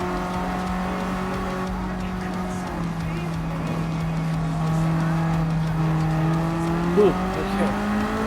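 Race car engine in Gran Turismo 7 holding a steady drone, dipping as the driver brakes and then rising again under light throttle, with a brief tire chirp near the end and a voice speaking briefly over it.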